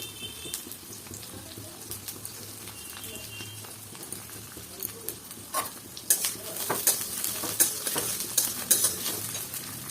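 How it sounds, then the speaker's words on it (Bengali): Vegetables for fried rice fry in a hot pan, a steady sizzle under scraping, clinking stirs that grow louder and busier over the second half. "এবার আমি এই সবজিগুলো ভেজে নেবো।"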